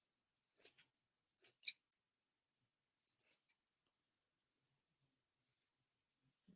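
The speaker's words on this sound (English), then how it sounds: "So cut your shape of your leaf." Scissors snip freehand through fabric to cut a leaf shape for a pumpkin plushie, giving a few short, soft clusters of close cuts separated by quiet pauses.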